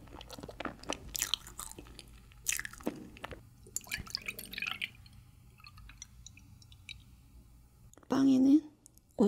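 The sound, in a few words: eating strawberry milk mochi roll, chewing ASMR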